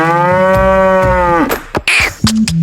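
A cow moos loudly and close by in a village before milking, one long drawn-out call followed by short rustles and knocks nearby, no talking.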